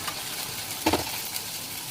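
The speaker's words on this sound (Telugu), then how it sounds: "అది వేసిన తర్వాత కొంచెం అల్లం వెల్లుల్లి పేస్ట్ వేసాను." Ginger garlic paste frying and sizzling as it is stirred into a dark curry in a pan, a brief close-up crackle with a short louder stir near the middle and a steady hiss around it.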